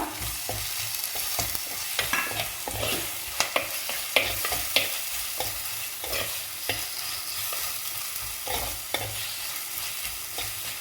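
A crab curry base of chopped tomato and curry leaves sautéed in a pan, frequent scraping and clacking stirs over a soft constant sizzle, close and with no talking.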